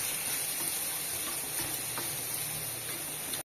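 Grated coconut sautéing in a pan for a coriander thuvaiyal, a steady close sizzling hiss that runs unbroken for a few seconds before cutting off abruptly.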